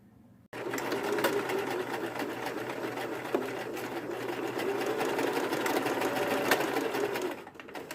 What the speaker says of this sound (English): you sew it right here at that fold line that you just made